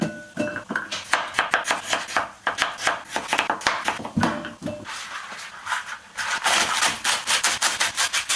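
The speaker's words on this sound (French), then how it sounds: "il faut passer à la découpe" Knife chopping leeks and potatoes on a board, a rapid run of sharp, close, evenly spaced cuts that continues steadily throughout, with no talk.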